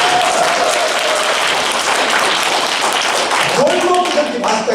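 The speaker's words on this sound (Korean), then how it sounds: "뜨거운 박수 한번 쳐주시죠" A lecture audience claps loudly and continuously, dense applause filling the room, with brief voices near the end.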